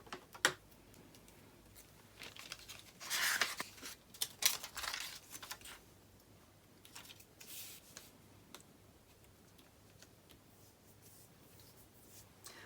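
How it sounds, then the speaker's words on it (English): Scissors snip through a traced paper pattern piece in short, quiet bursts of cutting and rustling, followed by near silence. "I'm actually going to cut this piece out"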